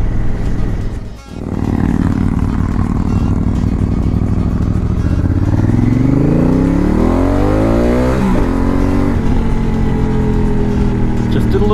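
Honda Africa Twin Adventure Sports from 2018 pulls a power wheelie, its engine loud and close and rising in pitch as it accelerates hard through the gears under steady wind roar, with a voice talking over it.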